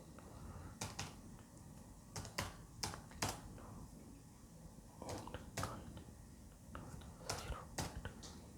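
A card number is keyed in on a computer keyboard, with quiet clusters of quick clicking taps in short bursts separated by pauses, faint and close.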